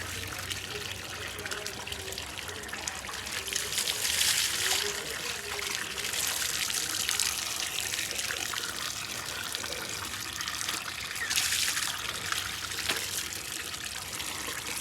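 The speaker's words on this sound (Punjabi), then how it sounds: "ਪਾਣੀ ਕੱਢ ਲਈਏ ਫਿਰ ਨਮਾਉਣੇ ਮੱਝਾਂ" Water runs steadily as it is drawn to bathe buffaloes at a Punjab farm, a continuous splashing flow with voices talking over it.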